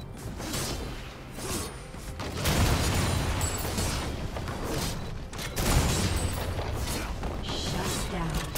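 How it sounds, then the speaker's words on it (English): A turret is destroyed in League of Legends, with rumbling impacts and mechanical crumbling layered over busy game effects. A voice speaks through it. "Blue team's turret has been destroyed."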